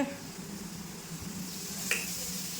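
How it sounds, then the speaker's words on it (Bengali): Okra and bitter gourd fry in a pan with a soft, continuous sizzle, fairly quiet and close, with a brief brighter hiss near the end. "এখানে ভেন্ডি আর উচ্ছে দিয়ে ভাজা করছি"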